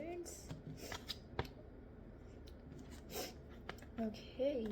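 Tarot cards are shuffled and pulled in a few soft papery flicks and slides, set against steady background noise and mixed in with talking.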